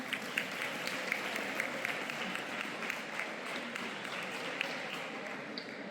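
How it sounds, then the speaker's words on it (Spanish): A crowd claps for a panel at an event remembering fifty years since the coup, sustained, even applause from many hands with a few sharper claps standing out. "Un fuerte aplauso."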